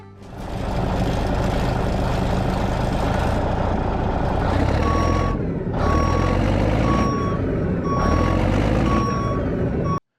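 A John Deere 650K dozer idles and rumbles close by, with loud repeating reversing beeps sounding in a steady rhythm over the diesel drone and a few brief air-hiss breaks.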